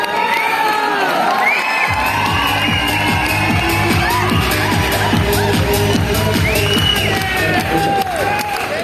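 A crowd at a diamond-recognition award function in Vizag claps and cheers loudly and steadily for several seconds, with whoops and shouts rising over the dense applause while a rhythmic musical beat runs underneath.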